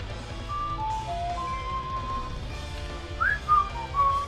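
A person whistles a short, wandering tune over the steady music and effects of the Hyrule Warriors Legends video game, with brighter rising notes near the end and no talking.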